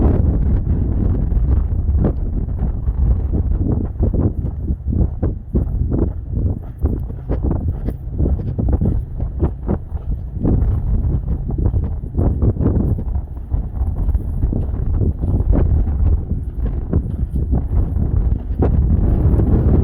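Steady, loud wind buffets a microphone outdoors on a windy day in California, a continuous low rumble with gusty flutter running the whole time, no voices.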